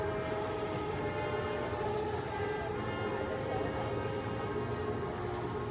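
Metro train in Bangkok passing by, a steady rumbling roll with a faint tonal whine, moderately loud and continuous, with no clear talk over it.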